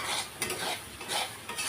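Tomato and chicken curry in a pot being stirred with a utensil, soft repeated scraping and clinking strokes over a faint sizzle, close and steady with no talking.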